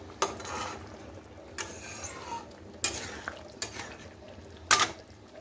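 Fried fish and eggplant pieces dropped into a simmering Bengali fish curry in a pan, with several sharp clatters of a spoon against the pot over a low bubbling simmer, no talking.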